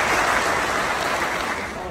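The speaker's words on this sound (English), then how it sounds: "Let's do one more round of applause for the union." Enthusiastic applause from an awards-night audience, a dense, continuous clatter of many hands clapping at close range and staying loud throughout.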